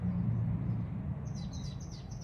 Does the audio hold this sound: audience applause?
no